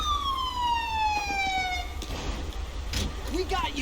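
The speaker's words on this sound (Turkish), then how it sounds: "Ambulans geldi. Ambulans." A wailing ambulance siren in the game GTA 5 sweeps downward in pitch as it arrives, fading after about two seconds into road and engine noise with a few clatters.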